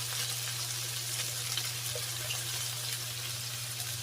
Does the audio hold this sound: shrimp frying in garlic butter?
yes